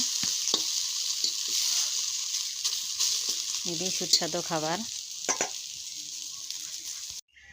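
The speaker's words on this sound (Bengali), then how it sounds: "বাকি সবগুলো আমি এরম করে ভেজে নিব" Dal (lentils) frying in a pan, a steady broadband sizzle running throughout with a few stirring knocks, while a person speaks briefly over it partway through.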